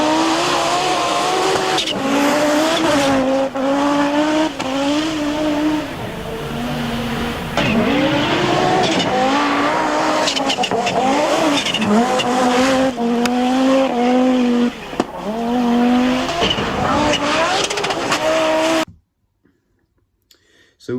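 Audi Quattro Group B rally car racing, a loud close engine howling through rising and falling revs with gear changes and tire noise, cutting off abruptly to silence near the end.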